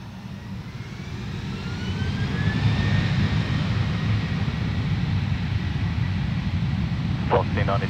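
A Qantas Airways jet airliner takes off from runway 03 with a steady, broad engine roar that swells after the first couple of seconds and holds loud and sustained, with a faint rising whine above it.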